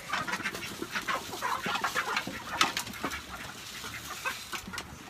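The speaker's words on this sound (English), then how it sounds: "Yes, this is our chickens." Chickens on a farm clucking and squawking in a dense, continuous chorus, with several birds calling over one another at moderate distance.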